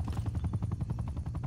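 Rapid rhythmic thumping of an attack helicopter's rotor in Call of Duty Cold War multiplayer on the Cartel map, a fast pulsing chop that stays close and fairly loud for the whole moment.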